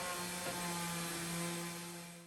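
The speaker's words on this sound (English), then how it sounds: "And now it's time for sanding." A power sander works over MDF panels for an arcade pedestal cabinet in a workshop. It gives a steady, close, droning whine that holds evenly and fades slightly at the end, with no talking.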